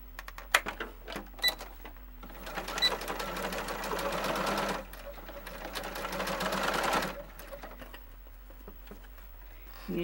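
A sewing machine stitches a fitted fabric face mask: a few scattered clicks, then two sustained bursts of rapid mechanical stitching, moderately loud and close, followed by quiet.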